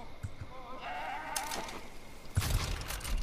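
Sheep bleating in the video game Far Cry New Dawn, with wavering calls near the middle of the clip over steady ambient game noise, followed by a louder burst of sound near the end.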